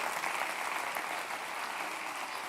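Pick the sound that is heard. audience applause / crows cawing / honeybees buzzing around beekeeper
audience applause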